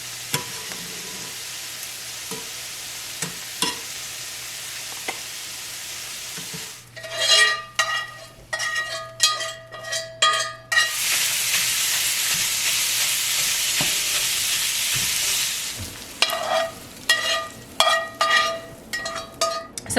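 Carrots, onions, garlic and ginger sizzle and get stirred in a saucepan or cast iron skillet, with scraping utensil strokes, a loud burst of frying hiss in the middle and clinks of metal against the pan.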